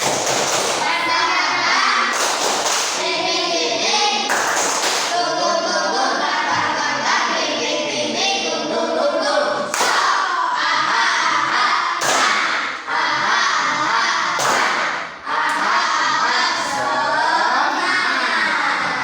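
A primary school class does a rhythmic spirit clap together, sharp loud bursts of group clapping in a patterned beat, mixed with children's voices chanting along in a classroom.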